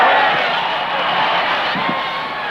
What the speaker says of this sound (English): Can you hear that crowd, Bobby?